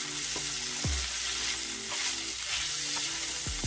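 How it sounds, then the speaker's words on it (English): Precooked seafood sautéing in a hot cast iron pan, a steady loud sizzle with a few scraping pushes of a utensil across the metal. "We're just going to saute this a little bit because you know this is already fully cooked."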